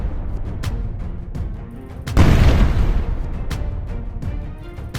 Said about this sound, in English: It opens fire immediately, destroying a Russian armored personnel carrier with its first shot.